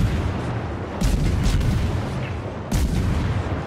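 The destroyer Harekaze's 100mm guns fire in World of Warships, a few heavy booming volleys punching through a constant low rumble of battle noise, loud and close.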